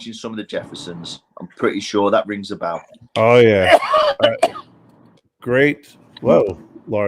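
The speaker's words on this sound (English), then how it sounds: "You froze on mid cough there" A man coughs and clears his throat between bits of speech, the harsh bursts close and loud, while another voice briefly speaks.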